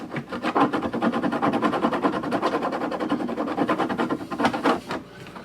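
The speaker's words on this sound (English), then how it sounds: "Clean off this glue a little bit." Rapid back-and-forth scrubbing at dried glue on a refrigerator door, a close, continuous raspy rubbing with a quick steady rhythm that ends in a few harder strokes.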